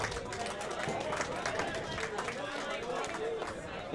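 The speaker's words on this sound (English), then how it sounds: "Another big round of applause for all of our bowlers." Bowlers at a Pro/Am fundraiser at Webster Timber Lanes get a round of applause: dense, steady clapping from a crowd mixed with chatter and background hubbub for the whole stretch.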